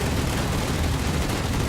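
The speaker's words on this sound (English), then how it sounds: "Oh, and the Hornet took a bomb." In the naval game Task Force Admiral, a bomb strikes the aircraft carrier Hornet, giving a loud, dense roar of explosion and gunfire that fills the short stretch without a break.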